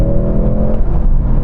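A Mercedes-AMG C63 under full throttle, with a loud, dense engine roar that holds steady and close throughout the brief burst.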